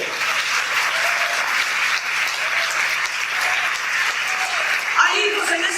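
A church congregation applauding during a Spanish-language service, brisk crowd clapping that holds steady for several seconds, with a voice rising over it near the end.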